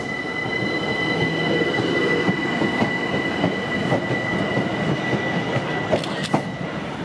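A Southern Class 377 electric train departs Dorking station bound for Horsham, a loud, steady rumble of rolling stock with high wheel squeal and faint rail clicks passing close by, with no talking.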